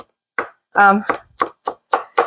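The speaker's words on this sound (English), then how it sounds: "I am just chopping up 2 onions very finely" Two onions being chopped finely with a knife on a board: about six sharp, separate chops at an uneven pace, with a short voiced sound partway through.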